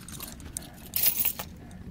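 A bunch of keys jangles in a brief metallic burst while a Nissan 350Z steering wheel is locked, close and bright, with a quieter rattle just after.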